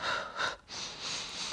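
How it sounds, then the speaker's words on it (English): Breathing during a Pilates stretch, with a sharp sniffing inhale followed by a long, airy blowing exhale, close and moderately loud with no talking. "In, sniff, out, blow."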